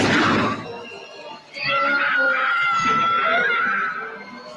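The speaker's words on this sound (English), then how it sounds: "It's a lot of people screaming." Many people screaming in a Hellbound: Hellraiser 2 horror film trailer, a loud sustained chorus of shrieks and cries with a brief dip partway through, mixed with crashing effects.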